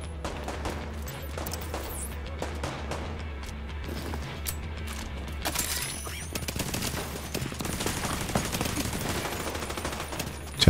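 Gunfire in The Division 2 video game: sustained rattling bursts of automatic weapons over a loud, deep droning hum, with the firing growing denser and harsher midway through and no speech.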